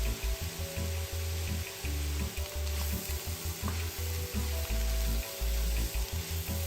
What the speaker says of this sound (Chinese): 当蒜子开始变软后，这时候就能将豆干加入，一起拌炒。